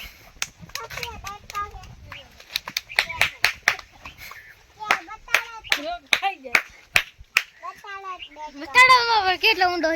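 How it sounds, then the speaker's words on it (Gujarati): Scattered hand claps from a small group, sharp separate claps that come in irregular bursts, mixed with excited voices and children speaking, louder chatter rising near the end. "તાળીઓથી વધાવી લેશું"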